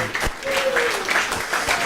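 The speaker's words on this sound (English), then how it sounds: "round of applause" Crowd applause at a live evening show during a spirit seekers weekend, a brief spell of clapping mixed with voices and a whistle-like tone.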